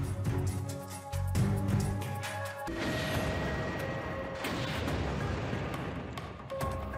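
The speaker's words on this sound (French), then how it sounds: "Une énorme explosion éventre l'unité numéro 1." A massive hydrogen explosion tearing open nuclear reactor unit 1, a heavy crashing blast that breaks into a long, dense rumble of debris and roar lasting several seconds, with no speech.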